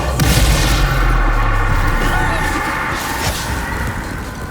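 Expulso explosion spell in the video game Hogwarts Legacy, a loud, sustained booming blast with crackling debris that slowly fades, heard with speech present.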